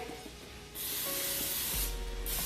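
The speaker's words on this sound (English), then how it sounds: "we just use this non-stick spray" A cooking spray can hissing in two long, close bursts, the spray starting after a short pause and continuing nearly to the end.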